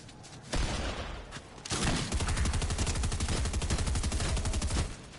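Rapid gunfire in the battle royale game Fortnite, with a quick burst early followed by a sustained rattling stream of shots that runs steadily to the end, loud and close.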